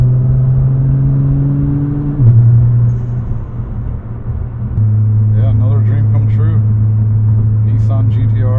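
A 2012 Nissan GT-R R35 with a stick shift hums at a steady low drone while being driven, its engine note stepping down once as if shifting, while a person talks over it.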